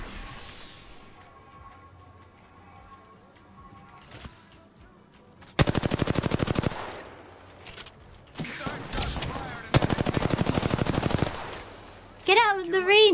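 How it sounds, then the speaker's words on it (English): Two long bursts of automatic gunfire in Apex Legends, rapid loud rattling shots close by, separated by quieter gaps with scattered single shots and game noise. "Taking fire!"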